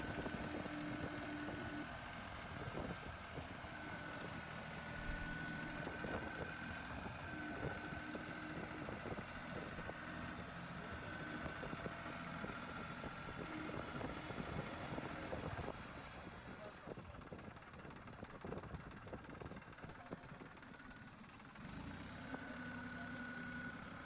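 A tractor with individually controlled wheels climbs a steep rock face off-road, its engine running steadily at a moderate level throughout, with a slight drop in loudness near the end.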